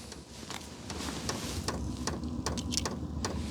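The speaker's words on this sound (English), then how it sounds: "I'm going to move around so that you can hear the fuel pump starting up." A VEVOR diesel heater's fuel pump ticks in a quiet space, a series of faint, irregularly spaced clicks over a low steady hum from the running unit.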